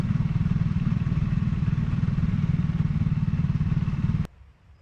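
A Triumph Scrambler 400X motorcycle rumbles at a steady pulsing pace while being ridden, loud and close, then the sound cuts off abruptly near the end.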